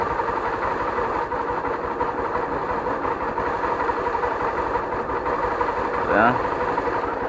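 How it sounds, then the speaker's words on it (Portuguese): A motorcycle engine idles with a steady, dense rumble that is close and loud, and a brief high squeal rises near the end when the clutch lever is pulled in; the bike has a fault that makes it squeal. "Só apertar a embreagem que ela começa a chiar"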